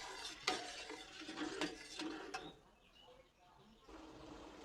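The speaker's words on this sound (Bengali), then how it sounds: "সবগুলো উপকরণ আমি মিশিয়ে নিচ্ছি" Pitha batter ingredients with condensed milk being stirred and mixed, quick clinking and scraping strokes for about two seconds before tapering off, then a low quiet stretch with faint background sounds.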